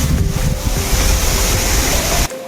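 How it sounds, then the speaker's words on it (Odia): Strong cyclone wind at the onset of a storm, with rain falling, roaring as a loud, steady broadband rush that buffets the microphone throughout, then cuts off abruptly just before the end. "ଲାଗୁଛି ବାତ୍ୟାଟା ଆଜି ପାଖରୁ ବୋଧେ ଆରମ୍ଭ ହେଇଗଲା ପବନ"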